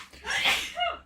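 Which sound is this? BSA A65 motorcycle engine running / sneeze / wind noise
sneeze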